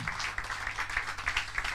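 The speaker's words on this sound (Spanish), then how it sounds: "Aplauda para Cristo" A church congregation claps for Christ, a light, uneven patter of hands at moderate distance, quick and scattered rather than a thunderous ovation.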